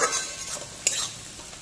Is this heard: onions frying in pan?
yes